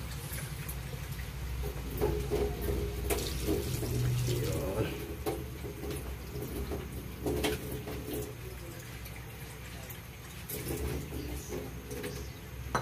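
A pot of pork and taro dinuguan broth with vinegar and water comes to a boil, giving a faint, continuous bubbling and watery churn in a quiet home kitchen.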